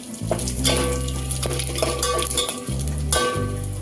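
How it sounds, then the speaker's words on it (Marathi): Whole spices hit hot ghee in a pan, giving a loud, close, steady sizzle with scraping stirs and a few metallic knocks of a utensil. "तूप गरम झालंय आता आपण त्यात सगळे हे खडे मसाले टाकणार"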